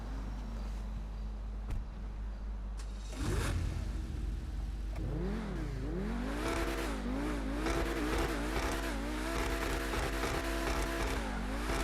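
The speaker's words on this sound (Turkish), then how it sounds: "Size sadece arabanın sesini duyun." A sports car engine in the video game GTA V revs again and again, pitch climbing and dropping in quick waves over a steady low rumble. It is loud and close with no voices.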